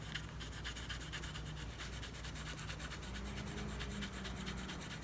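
Coloring pencil rubbed back and forth across paper to lay down a soft powder layer, a faint, steady scratchy rasp in quick repeated strokes, close up and quiet with no talking.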